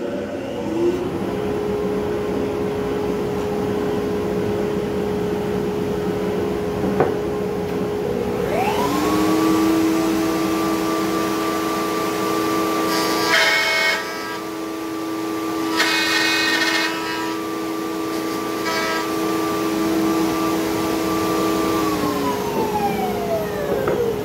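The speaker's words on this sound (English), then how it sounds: "I'm stopping this dust collector between runs so you can hear me" A workshop dust collector runs with a steady loud whir and a sustained tonal hum, rising in pitch as a router spins up to cut a mortise lock pocket, then winding down near the end.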